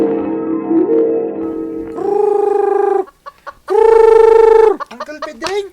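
Chickens on a farm clucking and calling loudly and close, in several drawn-out squawking bursts with shorter clucks between them.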